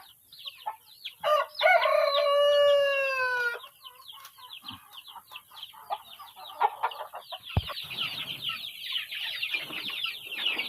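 A rooster crows loudly at the start, then chickens and young chicks keep up a busy stream of clucking and peeping nearby.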